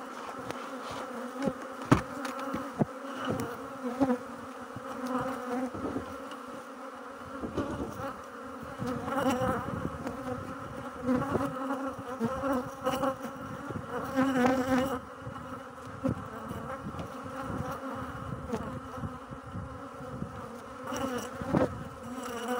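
A honeybee swarm buzzes continuously during a colony split, a dense, faint droning hum with individual bees passing close now and then.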